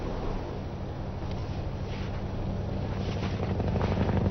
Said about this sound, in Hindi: हेलीकॉप्टर की आवाज है, चलो।